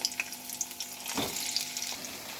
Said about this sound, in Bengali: আমার কপিগুলো ভাজা হয়ে গেছে